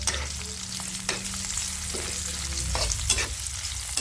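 Ginger added to garlic frying in a pan for escabeche, a loud close sizzle with rhythmic stirring scrapes throughout, no speech.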